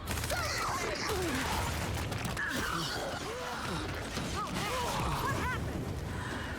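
Gunfire in the shooter game Gears 5, a dense run of rapid shots and mechanical clatter with impacts and crashes, loud and continuous, mixed with shouting voices.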